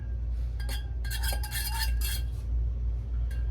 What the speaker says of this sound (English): fork to whisk the eggs.